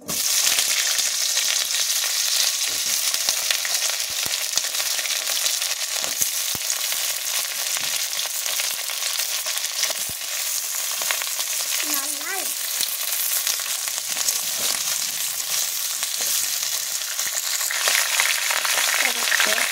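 Vegetables go into hot oil already seasoned with chilli, bay leaf and cumin for a home-cooked khichuri, and a bright, steady sizzle fills the stretch, with faint stirring and a few quiet clinks.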